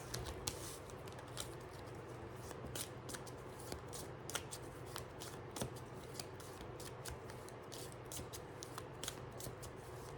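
A deck of tarot cards is shuffled over and over, producing a rapid, continuous riffling patter with crisp snaps at intervals, close and fairly quiet against a steady low background hum.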